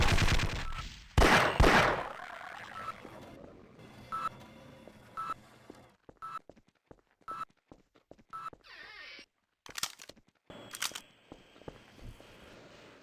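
Turret gunfire in Half-Life: Source comes as bursts of sharp automatic shots between quiet gaps, with short beeps and loud blasts up close.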